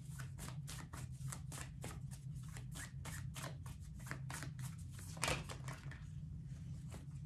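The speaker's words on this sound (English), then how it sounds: "Let's pull a card to find out why." A deck of tarot cards is shuffled in quick, crisp riffles and soft slaps, a rapid, even series of close papery bursts ending with a sharper snap as a card is drawn.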